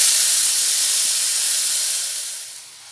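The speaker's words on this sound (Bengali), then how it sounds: "আলু পটলগুলো এবার ছেড়ে দেব।" Potato and pointed gourd pieces drop into hot oil in a pan, setting off a loud, steady sizzling hiss close by that stays strong, then eases slightly toward the end, with no talking.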